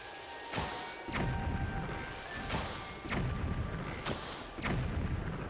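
Bombs explode in Zelda: Twilight Princess HD: three loud, evenly spaced booms, each preceded by a high falling whistle and followed by a rumbling crash, over quiet game ambience.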